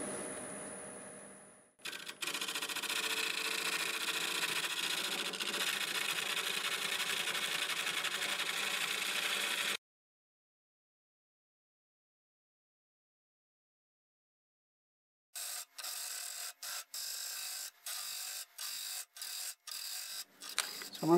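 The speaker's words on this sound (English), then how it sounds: "I'm going to cut a little more of the wall running the lathe in reverse" A wood lathe running in reverse turns a stubborn black oak blank, giving a steady whirring drone that stops abruptly, followed by silence and then a series of short on-off bursts.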